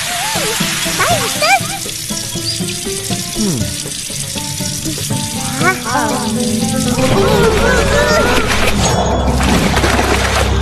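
Tap water running during ablution, a steady loud splashing stream mixed with busy noisy background sounds and speech-like voices throughout.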